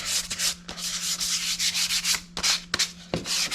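Sandpaper rubbed over a wooden box being refinished, a run of quick scratchy back-and-forth strokes with brief pauses, close and steady, no talking.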